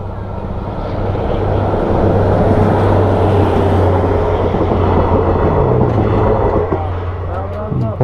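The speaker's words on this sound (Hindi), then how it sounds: "बहुत लंबी ट्रेन है भाई।" A very long train rolls past close by near Nagda, its loud continuous rumble and rhythmic wheel clatter filling the clip; a voice is faintly heard under the noise.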